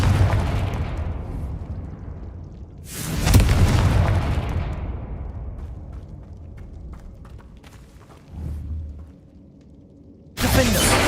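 Confringo fire spell explosions in Hogwarts Legacy, several heavy booming blasts, each followed by a long crackling decay, with a smaller thud between them and a final burst cut off at the end.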